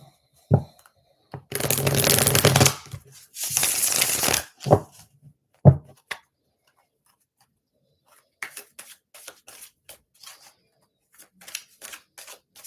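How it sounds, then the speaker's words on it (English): Tarot deck shuffled in two long riffling bursts, then a snap of cards and lighter scattered taps of cards being handled, close and clear in a quiet room. "Okay, let's shuffle one more."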